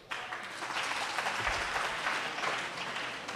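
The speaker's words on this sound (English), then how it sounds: "Hopefully that's not the beginning of the constant clapping." Steady audience applause at a school talk, a dense continuous wash of clapping from a crowd lasting throughout at moderate level, with no one speaking over it.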